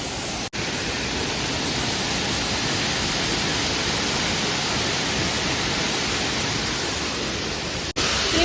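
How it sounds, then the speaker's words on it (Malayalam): Waterfall at Agumbe pouring steadily, a dense continuous roar of rushing water that stays loud and even throughout, with a brief dropout near the start and end. "ഇതാണ് നിങ്ങൾ കാണുന്ന വാട്ടർഫാൾസ്"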